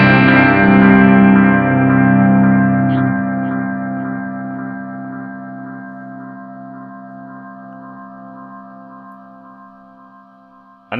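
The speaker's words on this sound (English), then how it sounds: "you can hear that the delay almost sits on the edge of totally feeding back and going crazy" A guitar chord rings through a Strymon Timeline digital delay set near feedback, the repeats hanging on and slowly fading over about ten seconds with a sustained shimmering tail, loud and alone before a sudden jolt at the end.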